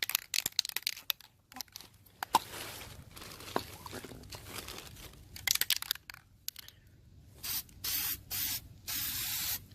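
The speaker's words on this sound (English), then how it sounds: "I'm going to give this a good shot of DEI high temp silicone coating" A can of DEI high temp silicone coating sprays in short hissing bursts with gaps between, then in several longer steady hisses near the end, fairly faint and close, with small handling clicks and rattles in between.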